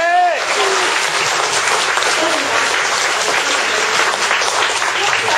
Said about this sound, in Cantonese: 我希望大家咧俾掌聲我哋今晚嘅參與。